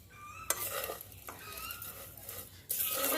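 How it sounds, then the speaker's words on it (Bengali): Sugar being stirred into fried vermicelli in a pan for sweet jorda semai gives repeated scraping and clinking strokes over a soft sizzle, with a louder burst of stirring near the end. "দিয়ে অল্প কিছুক্ষণ আমি এটাকে নাড়বো বেশিক্ষণ নাড়বো না"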